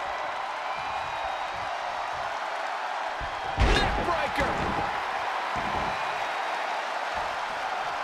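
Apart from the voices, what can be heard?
crowd cheering in WWE 2K20 video game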